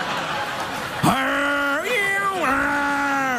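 A screeching cat sound effect plays on a late-night TV talk show as a drawn-out, wavering yowl in two or three rising and falling swells, loud and up front.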